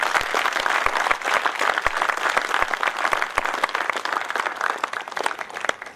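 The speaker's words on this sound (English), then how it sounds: "big round of applause for that" Sustained applause from an MBA graduation ceremony audience in a university hall, dense steady clapping from many hands throughout, with no talk over it.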